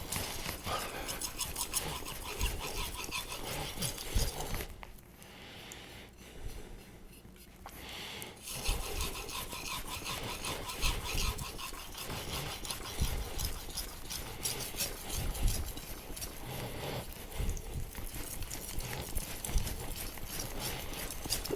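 Steady scraping strokes of a knife blade across a whetstone, quiet and continuous with a short lull partway through, while working up a burr.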